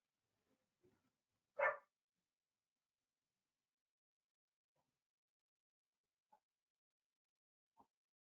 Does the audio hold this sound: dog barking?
yes